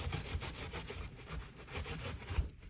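A paper towel wipes oil-based block printing ink off a carved printing block, producing quiet, rhythmic rubbing strokes in steady back-and-forth passes, close but faint.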